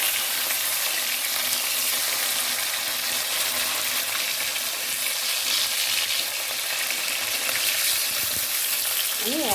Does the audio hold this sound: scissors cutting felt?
no